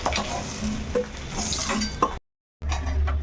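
Eggs fry in oil in a pan for a dish with raw pumpkin, giving a loud, steady sizzle with scraping stirs. The sizzle breaks off into a short silence, then returns.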